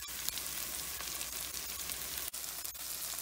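Chopped large onion frying in a pan for sambar rice, giving a steady, dense sizzle that holds evenly at close range throughout, with no talking.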